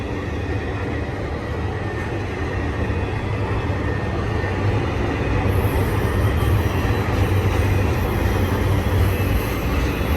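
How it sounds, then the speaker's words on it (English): A BNSF Z intermodal freight train rolls steadily along the tracks at Cajon, a dense, loud rumble of wheels and cars that stays constant and swells slightly, with a faint high whine. "This Z train was tied down here for just a few minutes. Dispatch got a hold of them, just released them."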